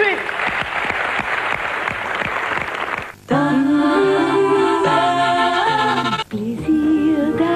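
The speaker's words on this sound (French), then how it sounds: "Merci d'applaudir Jennifer Loret." A French TV studio audience applauds actress Jennifer Loret with a loud, dense burst of clapping lasting about three seconds, which cuts away to a sung advertisement jingle.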